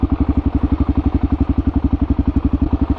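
Kawasaki KLR650 single-cylinder motorcycle engine thumping at a steady idle, loud and close, with an even rapid pulse throughout and no voices.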